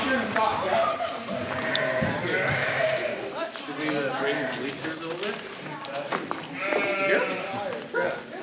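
Sheep and a lamb bleat repeatedly during a community shearing job, the calls rising and falling amid scuffling and clip-clop hoof movement, with people talking over them close by.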